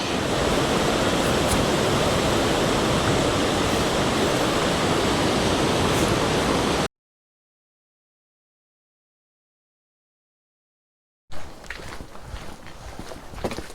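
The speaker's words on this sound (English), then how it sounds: "Lovely little waterfall." Steady rushing water from a small waterfall by Scuddy Pool Bridge on the Dava Way, loud and continuous, cutting out to silence midway before resuming more quietly with some scuffing.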